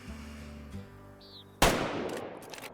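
A hunting rifle fires in the video game Way of the Hunter 2: one loud, sharp gunshot with a long rolling outdoor echo, following a low steady hum.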